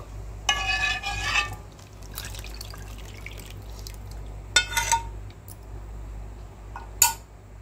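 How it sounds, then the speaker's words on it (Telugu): A ladle stirring rice flour into cooked chana dal for a sweet payasam, heard as a few separate wet metallic scrapes and clinks spaced across a quiet, low-humming kitchen. "ఒక్కసారి ఇలా కెరటితో నెమ్మదిగా తిప్పుకుందామండి"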